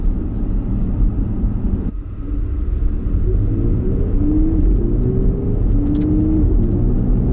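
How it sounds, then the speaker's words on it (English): A Porsche Panamera e-hybrid with sports exhaust accelerates hard, a loud low engine rumble rising in pitch through the gears from inside the cabin, with a brief dip as it shifts. "Okay, plenty of acceleration. This car does not lack for acceleration."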